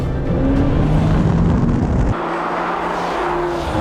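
An Aston Martin DBS Superleggera and a Mercedes-AMG GT R drag race, their engines roaring loud and continuous at full throttle with rising, shifting tones as they charge down the strip.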